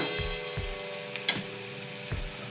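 Masala with chilli powder sizzles and fries in oil in a pan for fish curry, a steady close hiss with a few soft stirring knocks and scrapes, no voices.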